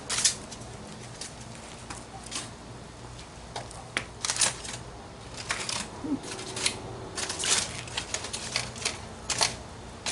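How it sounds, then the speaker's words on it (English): Aluminum foil is peeled back from barbecued spare ribs on a grill, giving close, crinkly rustles in irregular bursts over a low background hum. "that's aluminum foil there, so I'm going to pull it back a little bit"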